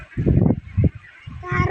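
Ducks give several short nasal quacks in a quick sequence, close and fairly loud, outdoors near a field.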